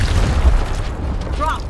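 A grenade blast in the tactical video game Gears Tactics, a deep booming explosion with a rumbling low tail, followed by brief game sound effects and a voice.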